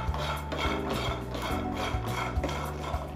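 Roasted cashews are stirred with ghee and salt in a pan, with a spoon scraping and clinking against the metal in a steady, rhythmic pattern of close knocks.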